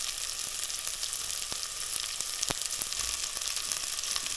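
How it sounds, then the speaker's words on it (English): Fennel, leek, garlic and onion sweat in a pan with a soft, steady sizzle, broken by a few sharp clicks and taps of a utensil, with no voices. "we're going to put in our fennel, leek, and garlic."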